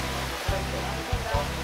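Water flowing steadily at the Kawa-kawa sa Awog natural pool in Bislig: a continuous broadband rush with a few soft low thumps, fairly close and unbroken throughout.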